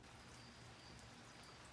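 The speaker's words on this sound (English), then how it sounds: "Hopefully the rain noise isn't too bad." Steady rain falls outside a house, a soft, even hiss of drops on surfaces that holds at a constant low level throughout, with no voices.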